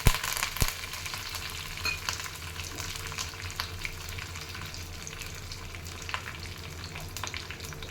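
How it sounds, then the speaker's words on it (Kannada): Mustard seeds and curry leaves sizzle in hot oil as a tempering for sprouts sambar, a dense, continuous close crackle with scattered sharp pops throughout. "ಇದಕ್ಕೆ ಸ್ವಲ್ಪ ಸಾಸಿವೆ ಹಾಕೋಣ. ಸಾಸಿವೆ ಹಾಕ್ಕೊಂಡು ಸ್ವಲ್ಪ ಕರಿಬೇವು ಹಾಕೋಣ ಅಂತ"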